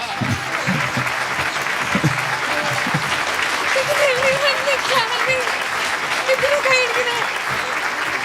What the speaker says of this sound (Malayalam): അങ്ങനെ കൈയടിക്കേണ്ട ആവശ്യമൊന്നും ഉണ്ടായിരുന്നില്ല